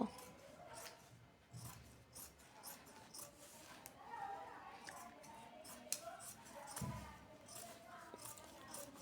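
Scissors snip through fabric as a frock sleeve is cut into a rounded shape, giving quiet, close, irregular crisp cuts and rustles spread across the clip, low in level.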